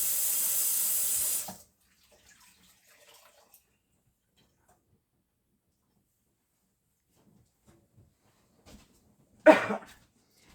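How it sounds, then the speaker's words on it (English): Greasy hands rinsed under a running kitchen faucet, a steady loud gush of water for about a second and a half, then near silence with a few faint clicks and one sharp knock near the end. "I'll rinse my hands off"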